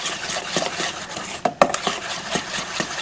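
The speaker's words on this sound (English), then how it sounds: "I'm going to use 3 tablespoons of strawberry jam. I'm just going to give this to a stir" A spoon stirs three tablespoons of strawberry jam into cheesecake batter in a bowl, giving soft repeated scraping with a few sharper clinks against the bowl near the middle.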